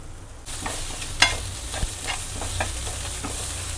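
Chili powder, garam masala and cumin powder fry in a pan, with a hiss that jumps in after a quiet half-second, then steady sizzling under intermittent scraping stirs and a few sharp clinks, close by.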